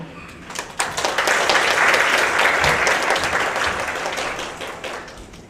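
Conference audience at an opening ceremony on citizenship education in Asia applauding to welcome speaker Dr. Fumio Isoda, a dense swell of clapping that rises quickly, holds for several seconds, then slowly tapers off.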